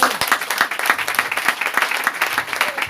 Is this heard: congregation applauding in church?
yes